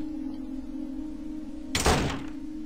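A locked door in the video game The Longing Ribbon gives a single heavy thunk with a brief rattling tail, sounding once over a steady low ambient hum.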